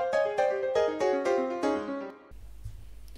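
Pre-chorus of Dream Theater's "Dance of Eternity" played as rapid 16th-note chords, bright repeated attacks decaying in quick succession for about two seconds, then cutting to a low hum.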